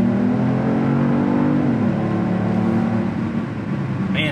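A luxury SUV accelerates hard through the gears, its engine note climbing steadily, dipping at a shift, then pulling up again. The drone is loud and close, heard from inside the cabin with no talk.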